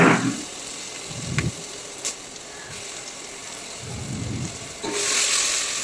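Ginger garlic paste fries in hot oil, a soft close sizzle with brief bursts of stirring and spattering that rise and fall, fairly quiet with no voices.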